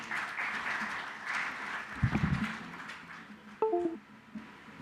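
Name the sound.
audience applause welcoming speakers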